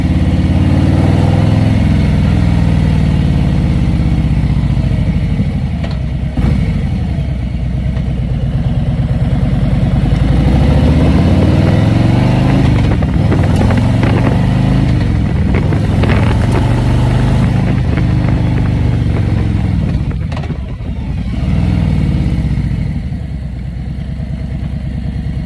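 An engine runs steadily at about 2,000 RPM, a loud continuous low rumble with slight variations in pitch and level throughout, and no voices.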